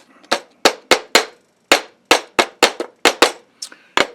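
Hammer blows flattening copper soft liners for lathe chuck jaws, about a dozen sharp, close metallic strikes in an uneven quick rhythm with short gaps between, heard alone with no talking.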